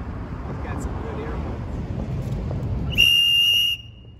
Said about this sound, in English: Does that sound like the world's loudest whistle?